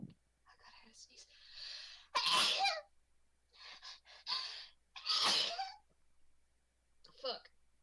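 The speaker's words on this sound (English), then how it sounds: "Oh god, I had to sneeze." A person sneezing indoors: sharp gasping intakes followed by two loud explosive sneezes a few seconds apart, with breathy whispers and a smaller final burst.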